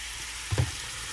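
A chopped yellow onion browning in a tablespoon of olive oil, a dense even sizzle held steady, broken by one brief low knock of the pan or utensil midway.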